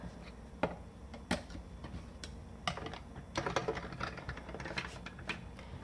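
An electronic craft cutting machine cuts a paper rectangle, quiet close mechanical whirring with scattered sharp ticks and clicks as the carriage moves.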